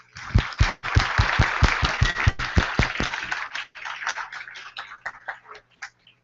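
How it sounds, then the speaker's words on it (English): Audience at a startup pitch-and-demo event applauding its sponsors, a small room of close, crisp hand claps, dense at first and then thinning into scattered claps. "Please give them a huge round of applause."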